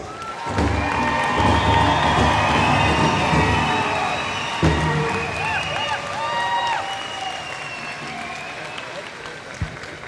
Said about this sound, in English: can we give our graduates another round of applause?